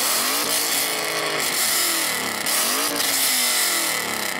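A BMW E39 M5 or Alpina B10 engine revs hard and loud, rising and falling through repeated throttle blips with a harsh, racy mechanical roar and no talking.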